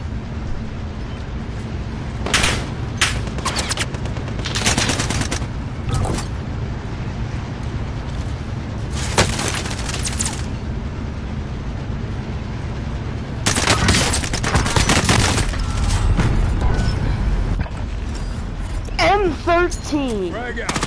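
M13 assault rifle firing in a Call of Duty–style video game, with repeated bursts of automatic gunfire among other game effects and voice chat running underneath.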